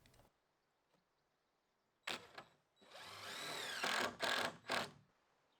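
Power drill drives screws into a timber stud wall for a garden room: a few short whirring bursts, then a longer rising motor whine followed by two quick bursts, close against near silence.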